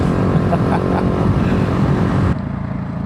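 A KTM 690 SMCR single-cylinder motorcycle fitted with Michelin Power 6 tyres rides by, a loud, steady engine drone close to the listener that drops off sharply near the end as it passes.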